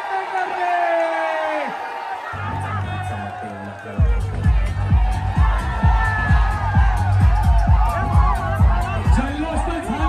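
Loud crowd cheering and whooping erupts at a Govinda human pyramid world-record attempt of ten tiers, with a rising roar joined by rhythmic heavy drum beats that keep pounding under the continuous shouting.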